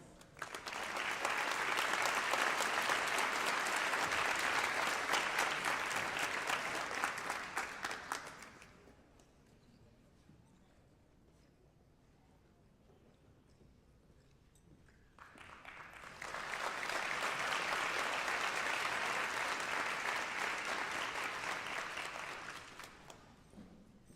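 Two long bursts of loud applause for cadets at a Summerlin Academy medallion ceremony, each lasting several seconds with a quiet pause between them.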